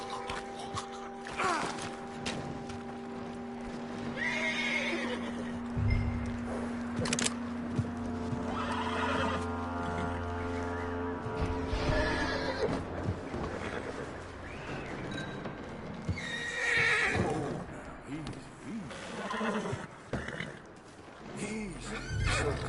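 A horse in Red Dead Redemption 2 whinnies and neighs amid clip-clopping hooves and game ambience, with characters talking over parts of it.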